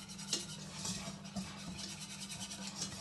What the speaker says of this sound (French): Et je fais chauffer tout en remuant pour ne pas que ça accroche dans le fond de la casserole.